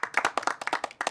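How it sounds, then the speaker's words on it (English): A light, sparse golf clap from a few hands, roughly a dozen crisp, close claps in a loose uneven rhythm, fairly quiet. "how about nice little golf clap for"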